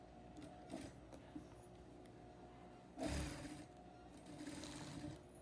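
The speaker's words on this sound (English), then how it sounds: "Now sew the second line, following the original stitch line," A sewing machine runs in short bursts, top stitching along the waist of a pair of jeans. It is faint and quiet, with a louder stretch of stitching near the end and no talking.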